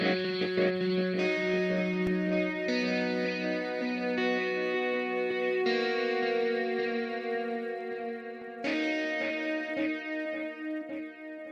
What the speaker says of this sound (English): I just thought I'd bring in this extra guitar part